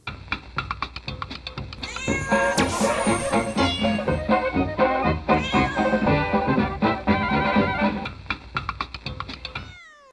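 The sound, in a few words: cat meowing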